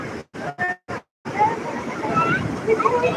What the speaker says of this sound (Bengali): সেই উত্তাল ঢেউ দিচ্ছে